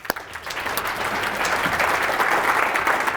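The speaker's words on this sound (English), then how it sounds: "Give me a round of applause, by the way." A seminar audience breaks into applause, a dense, steady wash of many hands clapping that builds and holds at a strong level throughout.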